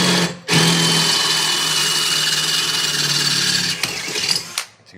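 Power drill with a bit running while drilling into a high-heeled shoe, a loud steady whine held for several seconds, then easing off and stopping at the end, with no talk.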